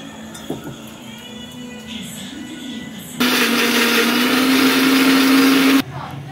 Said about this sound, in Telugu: ఇప్పుడు దీంట్లో టమాటా పచ్చిమిర్చి ముక్కలు కూడా వేసుకుని మిక్సీ పట్టుకుందాం.